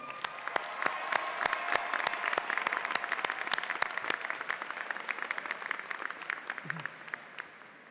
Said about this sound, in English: please give both of them a round of applause